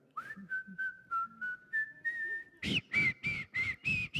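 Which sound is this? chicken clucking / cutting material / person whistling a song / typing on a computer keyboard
person whistling a song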